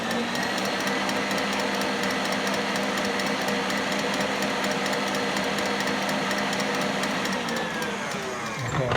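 An electric mixer whips egg whites for a joconde sponge meringue with a steady, loud motor whir and beater rattle that runs unbroken throughout.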